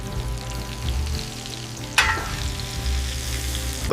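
Hot food sizzles steadily in a frying pan while being basted, with a sharp spattering burst midway before the crackle settles back into an even hiss.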